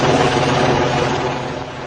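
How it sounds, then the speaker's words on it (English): American Apache military helicopters flying overhead, a loud continuous rumbling roar of rotors and engines filling the whole moment without letup. "As the helicopters passed over"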